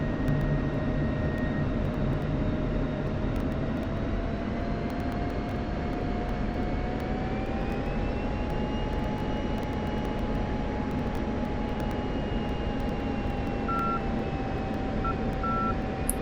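F-16 Viper jet engine in flight inside the DCS flight simulator, a constant loud cockpit roar with a slowly rising whine and a few faint short beeps near the end.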